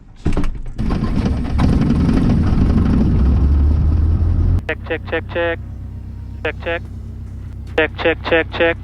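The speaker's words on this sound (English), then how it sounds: "So gonna get this engine started." A Cessna 152 aircraft engine starts with a loud, rough roar lasting about four seconds, then drops to a steady low idle hum that continues under a person speaking.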